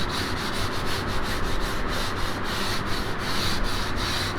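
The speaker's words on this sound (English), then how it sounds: "Giving it a good sanding." Steady rhythmic back-and-forth sanding of an Acura RSX sunroof delete panel, a close, loud rasping scrub repeating quickly with no voices.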